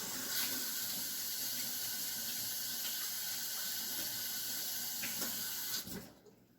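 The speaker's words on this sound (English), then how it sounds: "Okay, let me rinse my hands off." Hands rinsed under a running kitchen tap, a steady close hiss of flowing water that holds evenly for about six seconds and then cuts off abruptly, with no speech.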